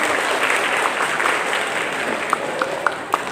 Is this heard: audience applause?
yes